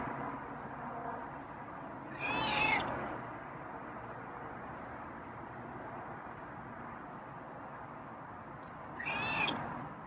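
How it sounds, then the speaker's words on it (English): Feral cat meowing twice, two short, fairly close calls spaced several seconds apart against a quiet outdoor background with faint distant traffic. "That's a nice meow."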